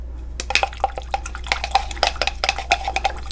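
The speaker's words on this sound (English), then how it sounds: "Mix your glycerin very well." Glycerin being stirred into distilled water for a homemade face toner gives soft, rapid clinking and sloshing taps in an irregular rhythm, close up and continuous, with no talking.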